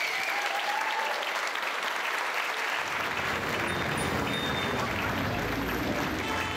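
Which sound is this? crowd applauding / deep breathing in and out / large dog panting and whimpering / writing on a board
crowd applauding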